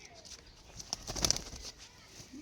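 Pigeons stirring in a pigeon house, with soft coos, a brief burst of wing flapping near the middle and faint rustling, all fairly quiet and close.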